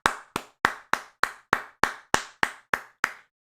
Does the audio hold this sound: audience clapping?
yes